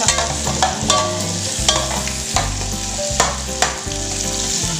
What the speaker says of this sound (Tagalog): Yan, pinisa yung bawang at saka sibuyas.